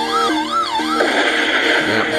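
A police siren from the Truck of Peace video game wails in rising and falling sweeps, then switches to a rapid yelping pattern, loud and close with no talk over it.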